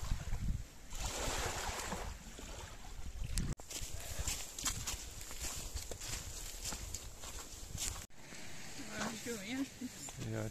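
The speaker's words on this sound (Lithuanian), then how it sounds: "Bet banguoja kaip jūra, beveik tas ežeras." Waves churned up by strong wind on a lake roll in a steady broadband wash with gusty wind noise, loud and close, broken by two abrupt cuts.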